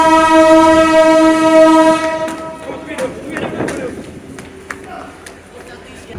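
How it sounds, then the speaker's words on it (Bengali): An intercity express train's horn blares for about two seconds at Khulna railway station, then fades into the rumble and clatter of the train pulling out. Voices can be heard around it. "খুলনা রেলওয়ে স্টেশনের প্ল্যাটফর্ম ত্যাগ করে ছুটে চলে আন্তনগর সাগরদারি এক্সপ্রেস রাজশাহীর উদ্দেশ্যে"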